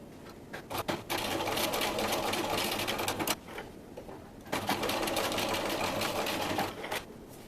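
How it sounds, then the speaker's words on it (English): A sewing machine top-stitches along the edges of a small fabric zipper pouch, running in two long steady bursts of fast, even whirring with a short pause between them, close and clear with no talk. "I'm going to sew along each side 1/8 of an inch from the edge to give it a nice top stitched look around the edge."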